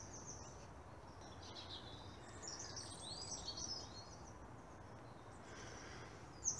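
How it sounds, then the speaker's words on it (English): Magpies chirp faintly in winter beech woods in Plymouth's Central Park, with scattered high calls drifting over a quiet outdoor background and a couple of sharper chirps near the end. "At the top there we have the chirp of the magpies."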